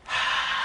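A man imitates the heavy breathing of a dirty phone call with a single short, breathy exhalation, close and alone, lasting under a second.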